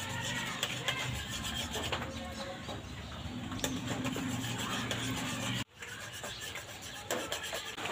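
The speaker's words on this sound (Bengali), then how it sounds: "এইভাবে অল্প অল্প দেব আর নাড়তে থাকবো।" A spoon scrapes and rubs steadily against a pan as packet powdered milk is stirred in small additions for homemade sandesh, a continuous close rasping that drops out briefly near the end.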